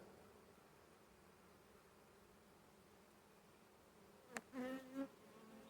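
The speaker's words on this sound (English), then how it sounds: "A lot of fanning going on." Steady, faint hum of honeybees fanning at an open hive during an early August inspection, a continuous insect drone throughout with a few brief louder buzzes near the end.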